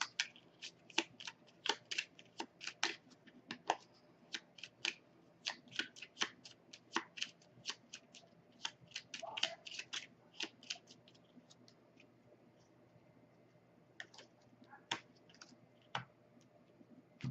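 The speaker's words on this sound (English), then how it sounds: "Got to shuffle" A deck of cards is shuffled during a tabletop card game, with rapid bursts of crisp riffling clicks close by, in repeated runs with brief pauses and no talk.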